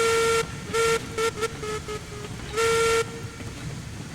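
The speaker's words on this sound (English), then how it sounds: "The whistle won't work unless there's boiler pressure." A steam locomotive whistle sounds in Railroads Online. It gives a loud, clear toot, then a run of short stuttering blasts, then a final long blast over a low background rumble.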